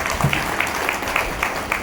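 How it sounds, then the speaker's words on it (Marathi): A small audience at a one-day camp claps together, brisk, sharp applause with rhythmic individual claps standing out, close and lively, fading quickly. "यांच्यासाठी जोरदार टाळ्या"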